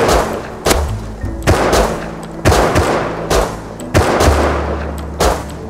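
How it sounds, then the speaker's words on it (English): Repeated pistol and semi-automatic rifle shots in a video game, about eight sharp loud reports in an irregular rhythm, each followed by a booming tail and a continuous rumbling background. "Wait, that doesn't sound like a pistol or a semi. It's a pistol and a semi."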